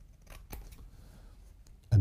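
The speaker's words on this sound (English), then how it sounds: "I'm going to just cut to my scissors here" Scissors snipping through paper for a Christmas tree craft, a few quiet close cuts followed by a louder crunchy snip at the end.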